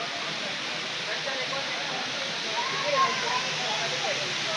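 A waterfall in Neelum Valley, flowing with reduced water, gives a steady broad rushing hiss at close range, continuous throughout.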